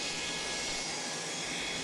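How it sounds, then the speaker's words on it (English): Steady broadband roar of a taxiing aircraft engine at an airport, a continuous jet-like rush heard at moderate distance without pauses. "Taxiing aircraft produce noise."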